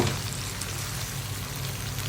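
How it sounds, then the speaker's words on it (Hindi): Okra frying with chicken masala over high heat in a dhaba-style bhindi chicken dish gives a steady, dense sizzle and crackle, close and continuous throughout. "अब इसको आपको तेज़ आंच पे जो है वो अपनी भिंडी डाल के इसको 1 से 2 मिनट के लिए कुक"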